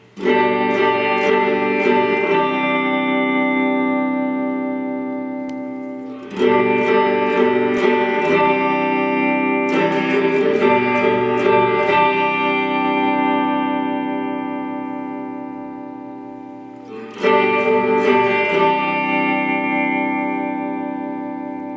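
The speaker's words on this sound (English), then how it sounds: "I'll turn it down and show you the color. So it's just reverb." Guitar chords strummed in several bursts through a Mooer Shimverb reverb pedal set to reverb only, each burst ringing out in a long, smooth decaying wash before the next.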